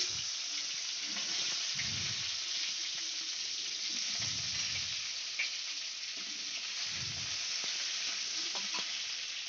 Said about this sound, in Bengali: এবার তেল দিলাম, পটলটা ভালো করে ভেজে নিচ্ছি।